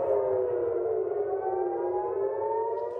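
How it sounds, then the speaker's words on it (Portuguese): Air raid sirens wail over Tel Aviv and Haifa, a steady droning tone heard from a distance that slowly bends in pitch and carries on without a break. "As sirenes soaram em Tel Aviv e Haifa."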